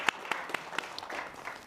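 A sponsors' thank-you at a design talk draws a brief patter of audience applause, a few distinct claps standing out over a soft, even wash.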